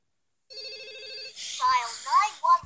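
A telephone rings with a short warbling electronic trill for about a second, followed by excited voices and squealing that drown out the ring.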